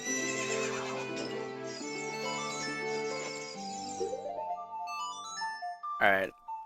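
A horse neighs in the video game Ocarina of Time 3D, a long, loud whinny with descending pitch that fades, then a brief bright chime sound right after, against steady game music.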